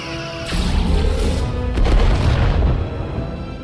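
Starship weapons firing in the Star Trek Resurgence video game: a loud, heavy boom-and-crash barrage with sustained rumbling impacts and bright blasts, close and filling the clip with no talk.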